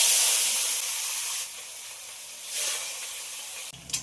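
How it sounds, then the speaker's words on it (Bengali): Rohu fish pieces rubbed with turmeric and salt frying in hot oil: loud, continuous close-up hissing sizzle that rises and falls in waves, with no talking. "তেল গরম হয়ে গেছে, ভাজার জন্য মাছটা ছেড়ে।"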